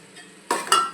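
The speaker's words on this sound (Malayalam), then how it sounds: "ഇതൊന്ന് നമുക്ക് മുട്ടയിലേക്ക് മസാലയെല്ലാം മൂടി കൊടുക്കുന്ന വിധത്തിലൊന്ന് ഇളക്കി കൊടുക്കാം" Eggs being stirred into boiling masala in a pan for egg biryani, with a quiet scraping lead-in followed by two louder bursts of spoon-on-pan clatter and sizzle.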